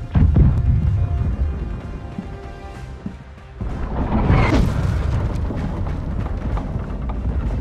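Heavy cannon volleys from sailing ships in the Blackwake naval battle game, loud booming bursts with a big crash around the middle, dense low rumble throughout.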